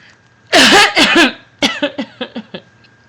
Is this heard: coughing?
yes